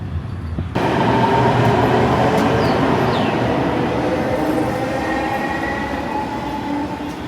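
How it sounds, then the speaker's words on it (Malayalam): A Delhi metro train ride heard from inside the carriage: after a brief quiet moment a loud, steady rumble of wheels and motors sets in, with faint squeals and clatter over the continuous roar. "ആൻഡ് അതിന് വേണ്ടി മെട്രോ എടുത്തതാണ്."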